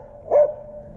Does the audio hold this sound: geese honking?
no